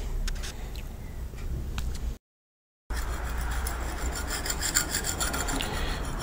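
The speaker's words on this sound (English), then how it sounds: "Now I'm just going to clean all that old gasket off, and just careful to not damage that edge there." Old gasket material is scraped off a cast iron Chevrolet Powerglide transmission case, a continuous rasping rub close up, broken by a brief pause and then resuming with steady strokes.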